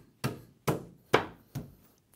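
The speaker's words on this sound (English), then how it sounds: "Join the 2 parts together, like so. Tap it down." Four evenly spaced, dull wooden knocks as the panel parts of an IT Range 925 base unit are tapped together, close and distinct, with silence between each blow.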